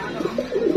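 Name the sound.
pigeons cooing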